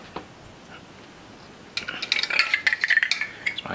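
Spoons, a brush and a measuring cup are set down on a table, starting with a lone soft tap and then a quick cluster of close metallic clinks and knocks.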